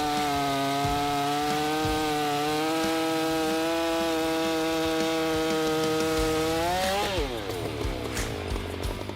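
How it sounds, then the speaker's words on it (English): A big Holzformer G660 forestry chainsaw cuts wood, a loud, steady high-revving whine that holds its pitch and then drops sharply as the engine bogs and eases off near the end. "The Holzformer G660 is a powerful chainsaw designed for the most demanding forestry application."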